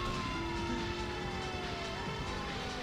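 Police car siren in Grand Theft Auto III, a sustained wailing tone sliding slowly in pitch, faint against a dense wash of game traffic and engine noise.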